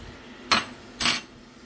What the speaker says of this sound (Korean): 이게 병따개에요. 병따개 오픈.